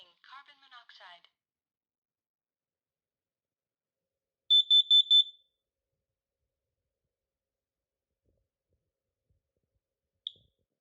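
A combined smoke and carbon monoxide alarm during a house inspection gives a short burst of four loud, shrill piercing beeps, with a brief synthetic voice warning just before and one faint chirp near the end, in otherwise quiet surroundings.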